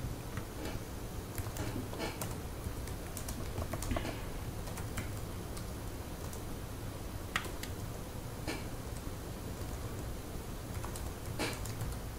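Steady typing on a computer keyboard while writing an Arduino program, a continuous soft patter of key clicks with occasional sharper taps, close and alone without speech.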